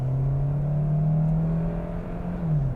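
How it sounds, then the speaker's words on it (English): The turbocharged gas engine of a hybrid car comes on at about 10 miles an hour, a steady, droning hum that rises slightly in pitch under road noise, heard from inside the cabin. "There's the gas engine coming on at around 10 miles an hour."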